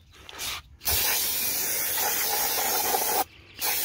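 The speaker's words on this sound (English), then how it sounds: "We're just gonna spray these rotors." Aerosol brake cleaner sprays onto a 2015 Toyota Venza's brake rotors in a loud, sustained hiss lasting over two seconds after a short burst, then stops briefly before resuming.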